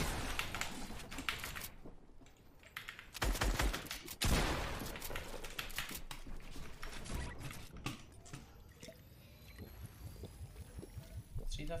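Bursts of video game gunfire crackle in a shooter match, rapid clustered shots and sharp single cracks scattered across the stretch, mixed with in-game clatter and ambience.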